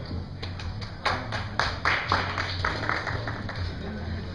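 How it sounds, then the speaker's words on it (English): An audience at a premiere party attempts one clap together, producing a ragged string of separate sharp hand claps scattered across a few seconds rather than a single unified hit, over a low background hum. "One clap."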